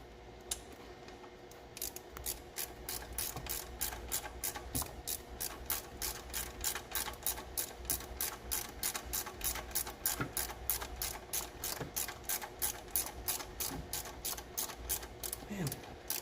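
A ratchet wrench clicks steadily on alternator bracket bolts while working on a budget turbo car, a fast, even run of close, crisp clicks filling nearly the whole stretch.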